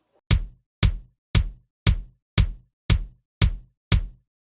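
Eight evenly spaced, sharp drum hits repeat in a steady beat, each a short booming thump with quick decay, close and alone with silence between strikes.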